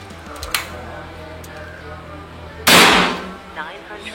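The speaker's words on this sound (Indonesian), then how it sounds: "Kita tembakan ke 7" A single loud, sharp report from a GK Mini Gen 3 PCP air rifle, close and abrupt with a short decaying tail, preceded by a small click.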